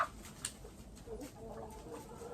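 A hen on a farm clucks softly a few times, faint and intermittent, under a steady low background hum.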